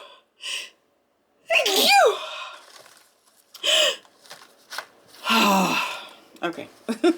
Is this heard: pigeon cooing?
no